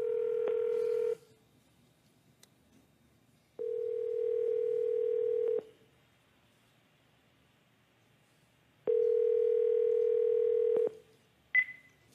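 A telephone call rings out unanswered: three long, steady ringback tones separated by silent gaps, followed by a short higher beep at the end.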